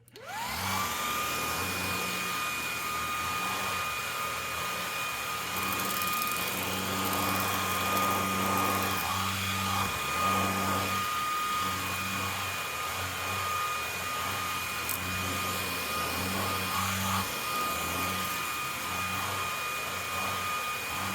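A DreameTech T10 cordless vacuum cleaner fitted with a mini brush roller whirs steadily with a high motor whine as it cleans a set of steps, with the pitch and load shifting rhythmically as it passes over each tread.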